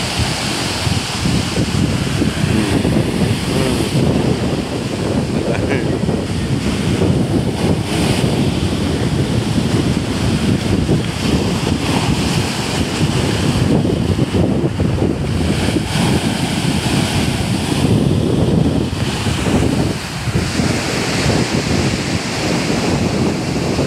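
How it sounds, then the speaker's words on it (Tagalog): Heavy surf pounds and roars continuously, loud and close, with gusting wind buffeting the microphone throughout. "ang lakas ng alon."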